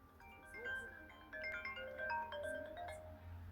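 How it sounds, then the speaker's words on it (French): A phone ringtone for an incoming call plays as a bright electronic melody of short chiming notes, fairly faint, with a voice talking quietly underneath. "il y a quelqu'un qui m'appelle sur mon téléphone"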